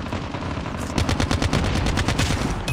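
An ICR Dark Matter rifle fires in COD Mobile, a fast, loud string of evenly spaced automatic shots close up over a constant dense game background.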